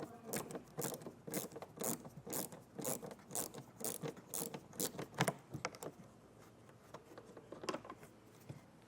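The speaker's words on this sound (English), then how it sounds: "Helps to have a 90-degree bit driver like this to get into this tight spot." A 90-degree bit driver working a T20 Torx screw loose in a tight spot on a 2019 Audi Q3 during a hidden hitch receiver install, giving steady, close ratcheting clicks and scraping in a rapid rhythm.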